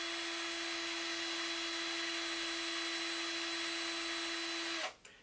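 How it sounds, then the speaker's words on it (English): A steady, high-pitched electric drill whine runs continuously for several seconds while spinning and twisting fishing line, then abruptly stops. "put the other end into a drill"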